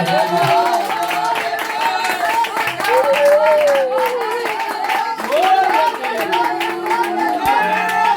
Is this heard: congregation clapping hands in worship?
yes